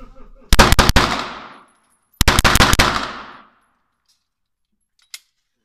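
Rapid follow-up shots from a Canik TP9 SFX 9mm pistol, two tight strings of quick loud reports separated by a short pause, each ringing out before silence, with a faint tick at the end.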